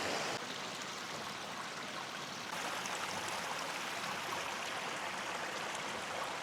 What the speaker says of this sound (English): Now this is a beautiful stream right here.